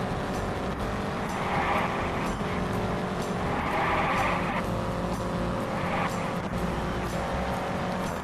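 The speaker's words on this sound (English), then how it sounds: "The car just slid there" Race car from the 1961 Indianapolis 500 in the Indianapolis 500 Evolution game, engine roaring steadily with tires sliding and squealing through a corner, loud and continuous throughout.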